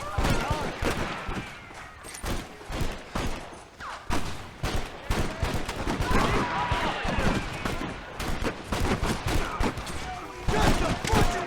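Rapid gunfire rattles through a shootout in the Red Dead Redemption video game, with dense bursts of shots from several guns cracking over one another almost continuously, loud and close.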